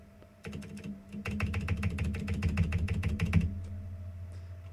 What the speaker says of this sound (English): Let's just type this out again.